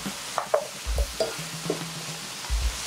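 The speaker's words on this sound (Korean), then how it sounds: "감자를 넣고 달달 조금 볶아주세요" Potatoes stir-fried with partly cooked pork, onion and minced garlic in a pan, with a faint sizzle under scattered soft scrapes and stirring knocks, close by and with no voices.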